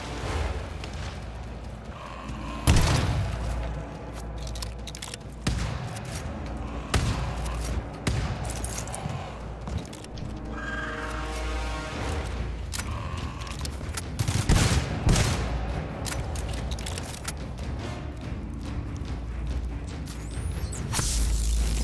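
Sustained turret gunfire rattles through a room in the co-op shooter game GTFO, dense bursts of shots and impacts overlapping almost continuously at loud, close range with a few sharper cracks and whooshes.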